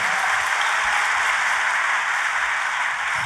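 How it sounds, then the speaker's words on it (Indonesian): Steady, dense applause from a church congregation fills the space, a continuous wash of clapping that stays loud and even throughout with no voices on top. "tepuk tangannya yang paling meriah."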